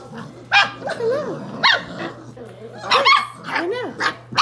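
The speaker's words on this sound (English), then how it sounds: "You're barking at me?" Dog barking in short yips and barks that recur through the clip, close by, with harmonic whimpering tones between them and a steady low hum underneath.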